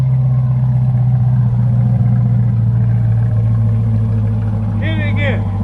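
A C8 Corvette fitted with a Corsa Extreme exhaust sits at a loud, steady idle with a deep rumble throughout, joined by a brief rev or whistle near the end.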